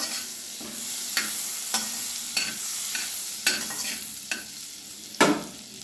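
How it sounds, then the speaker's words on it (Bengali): Butter melting and sizzling in a hot kadai on a gas stove, ready for frying paneer: a steady close sizzle with scattered sharp utensil clicks and scrapes at irregular intervals. "বাটারটা গলিয়ে নিচ্ছি।"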